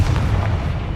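Blasting curse explosion in Hogwarts Legacy, a deep, rumbling boom that swells and lingers for about a second, loud and heavy in the low end.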